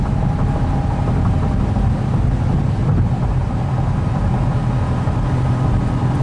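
A 2019 Honda Passport EX-L SUV accelerates on the road, with a steady, loud broadband rumble of engine, tyres and wind noise filling the cabin continuously without pause.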